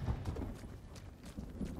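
Horse hooves in the video game Ghost of Tsushima: a brief run of soft, low, rhythmic clopping over quiet game ambience, with no talk.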